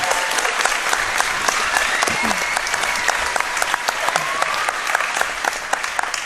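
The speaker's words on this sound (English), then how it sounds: "a round of applause for both of these athletes" Crowd applauding both fighters after a lightweight MMA bout at an arena event, dense continuous clapping with sharp individual claps standing out throughout.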